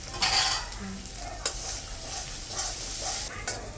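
Spice paste frying in oil in a home kitchen pot, a continuous sizzle with repeated stirring scrapes and light clinks of a utensil, no voices.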